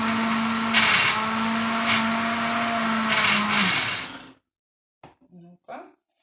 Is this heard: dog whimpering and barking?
no